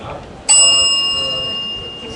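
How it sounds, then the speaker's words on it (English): A small hand bell, the kind used to signal time in a debate, strikes once with a sharp bright ding that rings on and slowly fades, with quiet room tone before it. "And the bell goes like this, Lydia."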